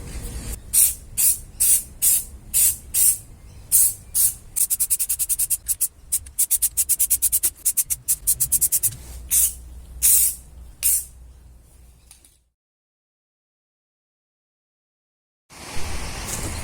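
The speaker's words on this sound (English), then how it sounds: "let's put primer of high heat" A spray can of high-heat primer hisses in short sharp bursts, then a rapid stutter of quick sprays, while restoring 1988 GSXR 750 engine covers. Near and loud, it falls silent briefly before the spraying resumes.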